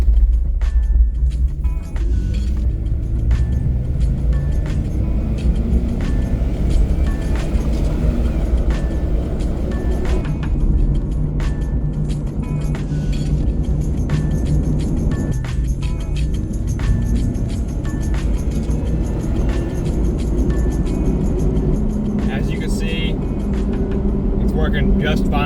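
A Jeep Grand Cherokee with a newly changed fuel filter drives on a test run, its engine and road noise a steady cabin drone throughout while someone talks over it.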